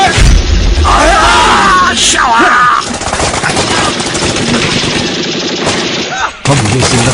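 Battle scene of a war drama with dense gunfire and bomb blasts, a loud continuous roar of rattling shots and rumbling explosions with shouting voices mixed into the din.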